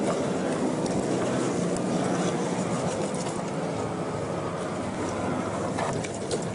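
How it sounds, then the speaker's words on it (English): A car engine and rushing road and wind noise come through an open window while driving in the mountains of Chiang Rai, a constant loud broadband roar with no talk. "Maybe I should roll up the window so you don't have to hear the engine."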